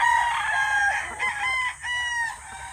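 Python gray gamefowl rooster crowing close by, a long loud cock-a-doodle-doo with clear harmonic calls that break into shorter bursts toward the end, no talk.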